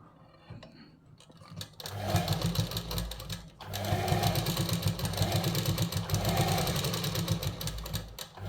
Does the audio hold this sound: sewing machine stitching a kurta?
yes